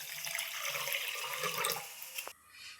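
Water pours from a vessel into a small pot holding jaggery in a kitchen, a steady splashing stream that lasts about two seconds before stopping abruptly.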